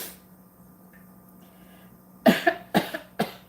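A burst of four harsh coughs in quick succession, close and loud, after a few seconds of quiet background hum, while cooking hot buffalo wings.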